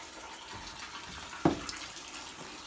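Engine coolant spills from a Duramax engine during a water pump replacement, a short faint trickle and splash with one sharper splatter midway, in a quiet workshop.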